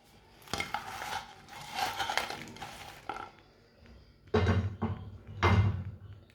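Crisp fried samosa chips clatter and crunch onto a plate in a home kitchen, several bursts of rattling and scraping against the dish with short pauses between, close and fairly quiet.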